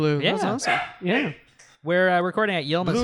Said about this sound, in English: he's running around. He's barking at things.